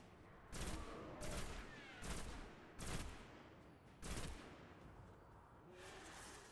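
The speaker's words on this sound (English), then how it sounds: "I just shoot him through the bars" Rifle fire from shooting at a knight through bars in the video game Destiny: five or six sharp, loud shots spaced about a second apart over a steady background hum, with no talking.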